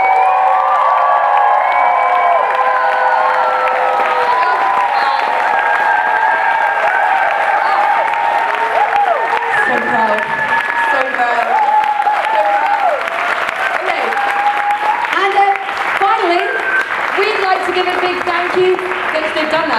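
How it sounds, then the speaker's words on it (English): Audience applause and cheering at the German Hoop Convention 2016 gala show, loud sustained clapping with whoops and shouts throughout, building into a wild, continuous ovation. "This is your last chance to clap, guys. Last chance to clap. So go crazy."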